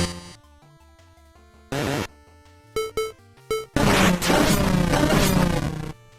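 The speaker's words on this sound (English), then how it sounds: "They also have a new sound effect when they charge at the player." Enemy charge sound effects from the Mega Man Four Hounds video game, a string of short synthetic bursts and chirps separated by quiet gaps, ending in a longer, louder noisy crash that roars for about two seconds before cutting off.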